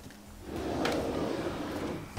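Near the end, a makeup drawer shuts with a single sharp knock. Before it there are soft handling and rustling noises, and no one speaks.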